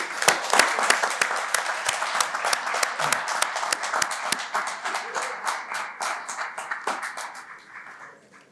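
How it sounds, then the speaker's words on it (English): Audience applause at a Columbus, Georgia city council meeting: dense, steady clapping from many hands that holds for several seconds, then thins and fades near the end, with faint voices mixed underneath. "Give them a round of applause."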